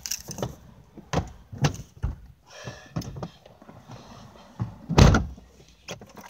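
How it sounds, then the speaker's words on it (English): Outdoors in the rain, a door is opened amid several sharp knocks and bumps of varying loudness, with the loudest thud near the end and a soft scraping rustle in between. "Ah, Theo, just open the door."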